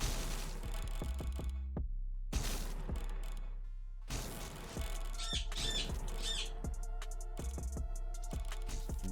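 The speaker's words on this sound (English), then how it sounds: "Bird is freaking out, I apologize." Pet bird squawking indoors, several sharp, harsh calls in quick bursts over a busy background of game sounds and clattering noises, with no speech over them.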